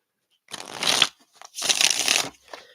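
A new Native American tarot deck being shuffled by hand in two crisp riffling bursts, each about half a second long with a short pause between, close and clear.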